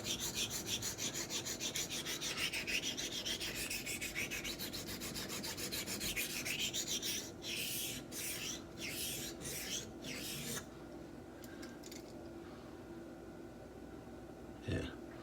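A Wade & Butcher straight razor is stroked across a Japanese natural sharpening stone in a steady run of close, raspy rubbing passes that later grow more spaced and softer, with a person talking faintly underneath.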